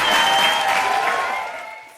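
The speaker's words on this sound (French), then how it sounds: "Là, vous pouvez applaudir." Audience applause at a school quiz contest in a hall, a broad wash of clapping that starts full and gradually thins and fades over two seconds, with no voices over it.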